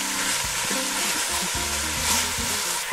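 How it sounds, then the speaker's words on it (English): Beef and pork mince sizzling steadily in a pan, browning over heat, with occasional stirring scrapes punctuating the constant loud frying hiss. "This has to be sauteed until the beef gets nice and brown"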